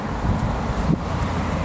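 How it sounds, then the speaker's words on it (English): Brief, heavy wind buffeting a microphone, a low rumbling roar with a sharper gust near the middle. "For me, it's very, very windy"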